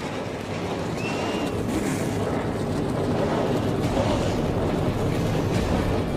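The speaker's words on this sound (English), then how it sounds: "Drivers, start your engines!" NASCAR race car engines fire up together at Texas Motor Speedway, merging into a loud, dense, continuous roar that holds steady throughout with no distinct individual revs.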